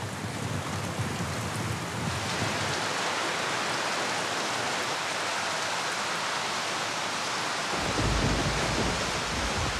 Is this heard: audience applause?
no